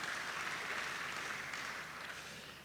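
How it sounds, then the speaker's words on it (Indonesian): Church audience applauding at a sermon session, a faint, steady wash of clapping from a distant crowd that slowly fades. "iya betul, kita tepuk tangan."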